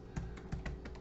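A few keystrokes on a computer keyboard as an address is typed into a browser bar, a handful of soft, close taps spaced irregularly across a brief moment.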